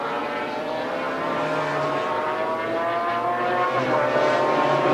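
1995 McLaren GT race cars pulling out of the pits together at the Nürburgring during a BPR Global GT Series race, a steady loud engine roar with rising pitch as they accelerate away.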